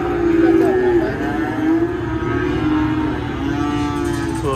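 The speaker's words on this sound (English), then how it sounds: "This is where the cattle go after they've been purchased," Cattle mooing at a cattle auction loadout after purchase, loud overlapping bellows and moos from several cows close by, continuous over barn background noise.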